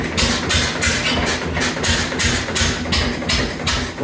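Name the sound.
1921 Lister TM stationary engine running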